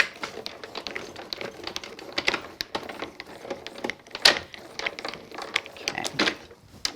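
A paper die-cutting machine cranks a die through for a cityscape night scene card, giving dense, steady mechanical clicking and ratcheting that runs close and loud with no talk.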